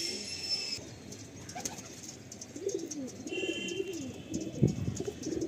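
A pair of Madrasi pigeons in breeding condition coo close by, with several low throaty coos building toward the end, a light chirp and faint flutter, with no talk.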